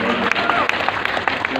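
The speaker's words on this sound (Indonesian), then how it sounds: "Tepuk tangan sekali lagi yang paling meriah buat Tuhan." A church congregation applauds in brief bursts of scattered claps, mixed with a voice talking loudly over them.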